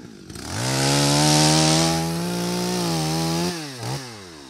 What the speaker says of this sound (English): the next sound that we hear is going to be a chainsaw cranking up